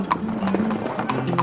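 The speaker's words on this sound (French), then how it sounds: "Ils paradent à cheval le long des rues pavées dans leurs plus beaux atours." Horses ridden by gauchos in a parade clip-clop over cobbled streets in a small Argentine town, a quick run of sharp hoof strikes at moderate distance.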